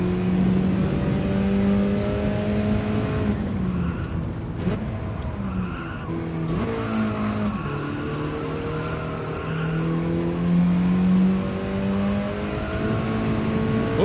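Race car in the game Gran Turismo 7, its engine droning steadily, then dropping and climbing in pitch as it downshifts, with faint tire noise, close and loud, with no talking.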